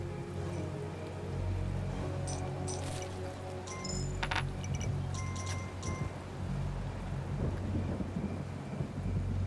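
Steady rain pours with low rumbling thunder in a video game, a constant wash of close downpour under a soft musical score with occasional chiming tones.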